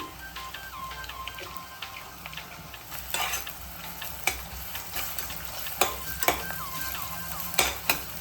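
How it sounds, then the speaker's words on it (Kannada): Ginger garlic paste frying in a pan on medium flame with green chillies, a soft continuous sizzle punctuated by sharp clicks and scrapes of a spoon stirring against the pan, close by. "ಇದೊಂದು 2 ನಿಮಿಷ ಫ್ರೈ ಆಗಬೇಕು, ಹಸಿ ವಾಸನೆ ಹೋಗೋ ತನಕ"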